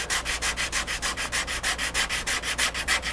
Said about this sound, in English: I still have to sand up in here